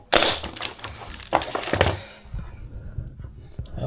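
RJ network cable being cut during installation of fittings in a cable trunking, a few sharp crunching snips and clicks close up, followed by quieter handling noise.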